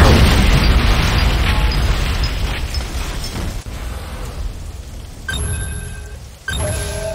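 A building blown apart by an Ion Cannon strike in the Command & Conquer: Renegade video game: a loud, sustained rumbling explosion with crackling bursts that tails off, then short metallic booms and debris near the end.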